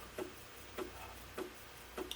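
Quiet mechanical clicking repeats at a steady pace, about four soft ticks with faint whirring between, as an Ensoniq ASR-10 sampler's floppy drive loads a disk.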